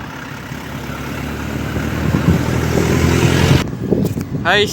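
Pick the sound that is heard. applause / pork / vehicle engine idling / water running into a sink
vehicle engine idling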